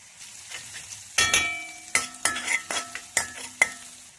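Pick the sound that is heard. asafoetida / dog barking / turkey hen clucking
asafoetida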